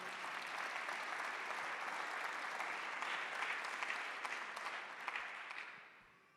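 A church congregation applauds together in loud, sustained clapping that tapers off toward the end.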